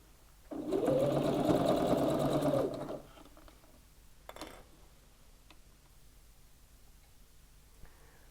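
Sewing machine stitching a reversible shopper bag: one close burst of rapid, even whirring for about two seconds, then fabric rustling and small clicks in a quiet room.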